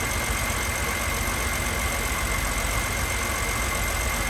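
A 2006 BMW 325i idling with an ignition coil misfire, giving a steady, close engine drone with a faint uneven knock running through it. No one speaks.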